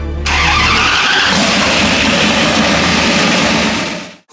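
A twin-turbo Ram 1500 with a 5.2 liter Magnum V8 fires up for its first start after sitting for years, cranking briefly then catching into a loud, steady, roaring run close by that holds before cutting off.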